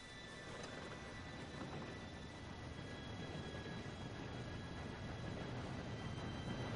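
A train rumbles steadily and grows slightly louder as it approaches, a dense low roar with faint high whine, fairly quiet and distant, no voices over it.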